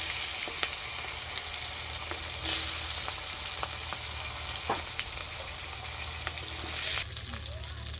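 Tomatoes, onion and ginger fry lightly in a kadai, giving a steady close sizzle with occasional small clicks and scrapes from stirring.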